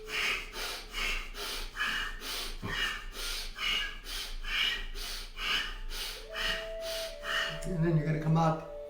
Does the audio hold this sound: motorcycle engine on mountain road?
no